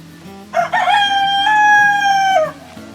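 A single loud rooster crow rings out close by in a backyard garden, a long harmonic call lasting about two seconds, with low clucking from other hens underneath.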